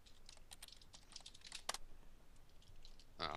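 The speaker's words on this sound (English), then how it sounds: "Oh, I'm so slow typing." Rapid, irregular keystrokes on a computer keyboard during a Minecraft arcade mini-game, clicking close and fairly quiet in uneven bursts, with a louder clatter at the end.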